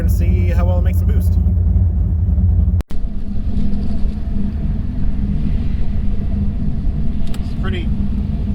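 A warmed-up turbocharged car fitted with a Next Gen VSR 78/75 turbo runs on a cool night, giving a steady, loud, low engine rumble with a brief dropout near three seconds and short bits of voice.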